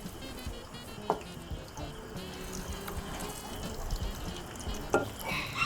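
Potatoes for French fries fry in hot oil and get stirred, making a continuous close bubbling sizzle with a few sharper clunks from utensils against the pan.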